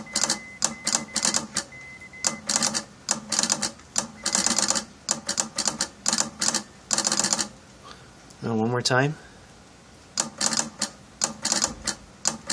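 An 1890s telegraph relay clicks out a call sign in quick bursts of sharp, close mechanical clacks separated by short pauses. A voice speaks briefly and a short warbling tone cuts in near the end.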